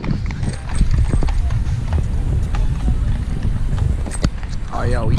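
Horse hooves clip-clop along a Central Park path in New York, a steady rapid rhythm mixed with city bustle, wind buffeting the microphone, and people talking nearby.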